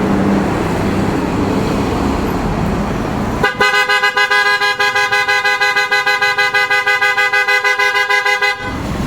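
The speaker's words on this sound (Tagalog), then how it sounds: "yung tunog ng auto style horn" Loud, continuous car horn of a Toyota Vios fitted with aftermarket PIAA Oto-style horns, blaring in a rapid pulsing pattern for several seconds, preceded by traffic noise, then cutting off abruptly.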